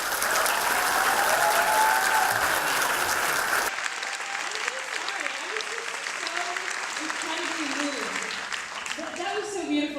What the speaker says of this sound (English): Another round of applause for women of the world.